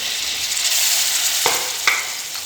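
Potatoes sizzle steadily in hot spiced oil while being cooked down for aloo bhujia, with a constant bright crackle and a couple of soft stirring knocks against the pan.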